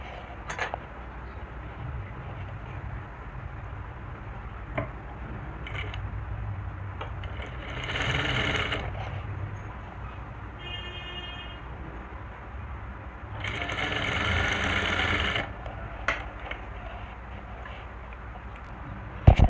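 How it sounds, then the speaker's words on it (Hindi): A sewing machine stitches the center of a kurti neck collar in two longer runs of soft whirring, a low steady mechanical hum between them with a few small clicks, fairly quiet and close. "अभी सेंटर से ही नेक का सेंटर मिला के और सेंटर में सिलाई लगाएंगे पहले"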